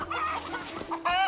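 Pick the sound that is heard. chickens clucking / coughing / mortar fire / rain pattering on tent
chickens clucking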